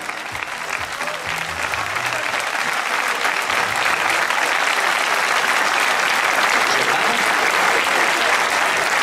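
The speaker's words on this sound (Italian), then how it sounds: "A lui l'applauso, in silenzio, dai" Steady crowd applause fills a town square as a football team is presented, the clapping building slightly and holding loud and dense throughout, in honour of a former championship-winning player.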